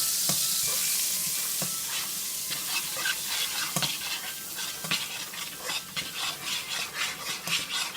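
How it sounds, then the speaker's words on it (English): A stick of butter melts in the oil left from frying salmon and is tossed around the pan, heard as a steady sizzle with repeated rhythmic scraping stirs that grow quicker toward the end. "you're going to melt 1 stick of butter into the oil that you fry the fish in. You sort of toss it around."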